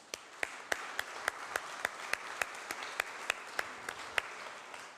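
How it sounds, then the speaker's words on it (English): Attendees at a school property tax town hall meeting clap, a thin spread of applause with a few distinct, evenly spaced claps standing out, fairly quiet and with no one speaking. "I think they deserve a round of applause for being in the public."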